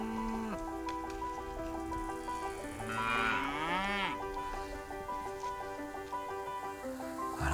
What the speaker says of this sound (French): Le matin, quand on amène les vaches dans leur pré, avec la nouvelle herbe.